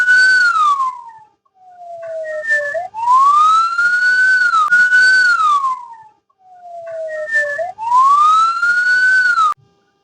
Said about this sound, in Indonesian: jika teman-teman mendengar bunyi ambulan